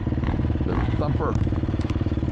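Single-cylinder motorcycle on a club ride thumps with a rapid, even beat close to the microphone, while a person talks over the engine.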